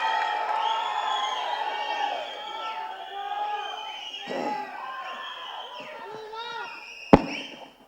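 A large crowd at a film pre-release event cheers, whoops and whistles in a dense, continuous roar that eases slightly midway, with one sharp loud bang near the end.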